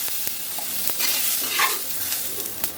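Katla fish frying in hot oil crackles and hisses steadily up close, broken by a few sharp pops and spatters, with no voices.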